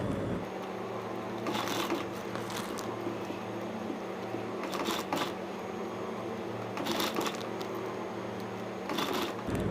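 A sewing machine stitches strips of fabric onto a trouser leg in quick, faint bursts of rapid clatter over a steady low motor hum, close by with no voices.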